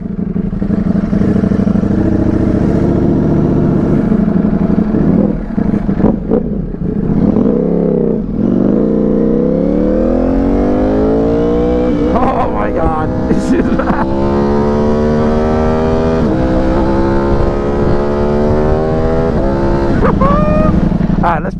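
A Ducati sport motorcycle engine idles and revs, its pitch rising and falling in smooth sweeps, close and loud, with a voice speaking briefly over it.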